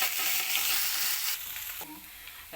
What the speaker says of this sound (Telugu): కొద్దిగా ఫాస్ట్గా వచ్చే వరకు ఫ్రై చేసుకోవాలి.